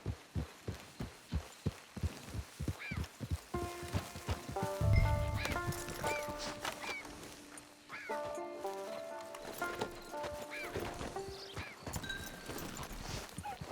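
A horse gallops in the video game Red Dead Online, with loud, evenly spaced hoofbeats close by that blend into a music score.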